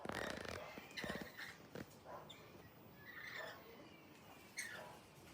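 A myna bird calls outdoors in several short, harsh bursts scattered over a few seconds, fairly close, with other faint bird sounds in the background.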